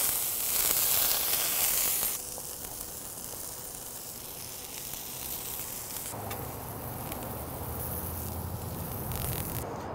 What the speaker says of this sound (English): last thing to do is get our buns toasted. Again, with the clarified butter.